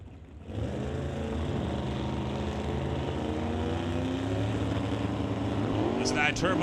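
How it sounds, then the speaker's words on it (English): Drag racing car at a divisional NHRA event, its turbo spooling up at the start line: a loud, sustained engine roar with rising whistling tones, ending in a sharper climbing squeal near the close. "There's that turbo spooling up."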